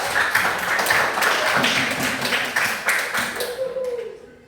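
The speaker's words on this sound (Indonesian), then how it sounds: "tepuk tangan untuk kelompok 2" A classroom group claps briefly for a student group in scattered, uneven applause that fades out, with voices mixed in.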